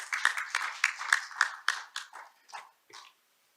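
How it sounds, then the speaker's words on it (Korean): A small forum audience claps in welcome, a handful of distinct, close claps in an uneven rhythm that thin out and stop. "안영 박사님은 힘찬 박수로 환영해 주시기 바랍니다."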